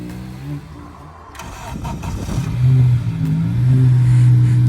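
A Honda Civic Type R FN2 engine with a 3-inch induction kit turns over and catches, then revs up and settles into a loud, steady idle close by.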